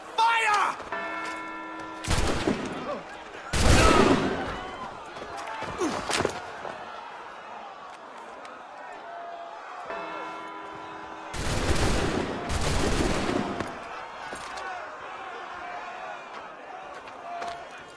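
A volley of musket gunfire in the video game Assassin's Creed III: two loud, booming blasts several seconds apart, each a dense crackling burst, set against sustained music and a background voice.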